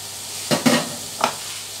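Wild fern leaves are stir-fried in a pan, giving a steady soft sizzle with a few sharp scraping stirs of the utensil.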